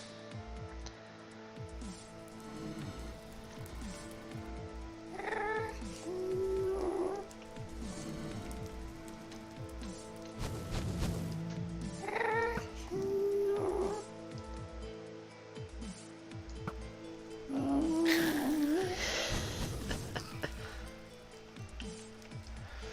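Minecraft cats meowing and caterwauling several times, scattered across a steady rain-like background hiss, with no talking.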